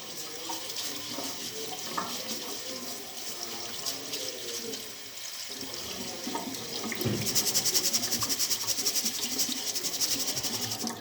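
Running tap water splashes steadily into a sink as a pollock (lieu noir) fillet is rinsed by hand, the flow growing louder and fuller near the end.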